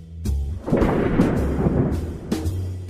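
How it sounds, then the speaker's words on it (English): A rumbling, crackling roll like thunder, made by shaking a sheet of aluminum foil as a movie sound effect, swelling after a quiet start and continuing for a few seconds. "Did you say a sheet of aluminum foil?"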